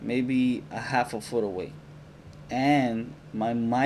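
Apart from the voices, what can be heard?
No distinct noise like a dog, phone or traffic.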